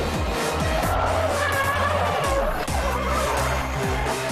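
Race car skidding with tires squealing under a loud, continuous engine roar, a dense close rush of motor noise with no talk.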